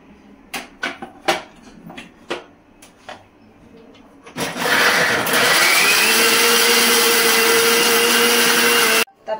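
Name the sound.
mixer grinder grinding soaked raw mixture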